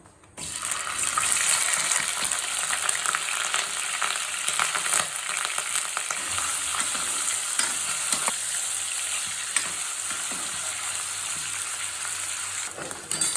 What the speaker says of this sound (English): Now the oil is hot. Let's add our paneer.